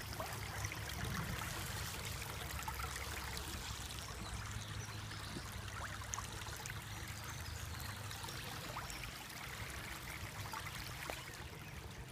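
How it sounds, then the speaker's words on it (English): Shallow water flows and trickles over stepping stones in a stream, a faint, steady babbling that runs on evenly without voices. "Can you hear the water as it goes over the stepping stones?"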